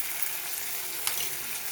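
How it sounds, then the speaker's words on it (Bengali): Ginger paste and tomato fry in a pan, giving a soft, even sizzle throughout with a brief stirring scrape near the end, quiet and without voices. "আদাটা দিয়েও কিছুক্ষণ আমি ভালো মতন কষিয়ে নেব।"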